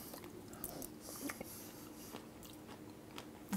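Faint close-up biting and chewing of elote guacamole, soft crunchy bites and moist mastication repeating over a few seconds with no talking.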